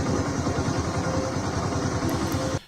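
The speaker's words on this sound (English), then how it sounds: "that's the guy on the motorbike filming, so that's what that noise is" A motorbike engine runs steadily and close by, with a throbbing, rhythmic low putter and some clatter held for over two seconds before cutting out abruptly near the end.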